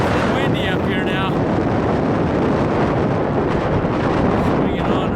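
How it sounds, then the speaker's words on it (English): Strong wind batters the microphone on a mountain summit in the Boulder White Clouds, a loud, steady roaring buffet, with someone speaking briefly near the start. "it's a little windy up here now"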